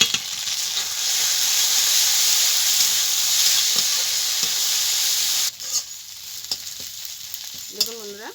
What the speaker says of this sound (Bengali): দেখুন বন্ধুরা মশলাটা আমার কষানো হয়ে গেছে, দেখুন তেলও ছেড়ে দিয়েছে